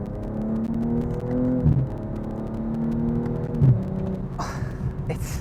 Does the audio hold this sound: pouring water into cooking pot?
no